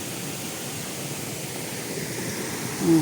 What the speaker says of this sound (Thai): เป็นลำธารสวยๆนะคะ อ่าก็เป็นน้ำตกเล็กนะคะ ไม่ใช่น้ำตกใหญ่นะคะ